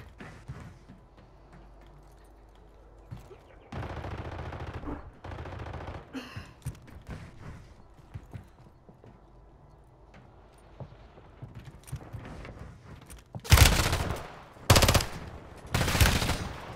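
Automatic gunfire in Call of Duty Modern Warfare III, scattered bursts and single shots through the first part, then three loud heavy volleys close together near the end.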